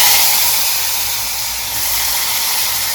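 Pressure cooker cooking potatoes releases a steady, loud hiss of steam that holds evenly for the full three seconds, with no break or pause.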